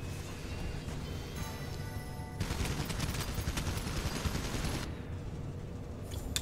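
Sustained rapid gunfire from the game TurretTime HK-206, loud bursts of shots stacking into a dense fusillade that swells in the middle and then thins toward the end.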